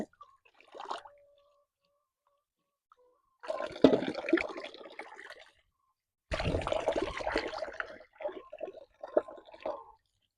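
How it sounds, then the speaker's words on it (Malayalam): Arrowroot tubers being washed in water, with splashing, sloshing and squelching bursts coming in two longer spells after a brief early splash, close and moderately loud, with no talk. "കുറച്ച് കൂവകൾ മാത്രമാണ് ഇപ്പോൾ കഴുകിയെടുക്കുന്നത്"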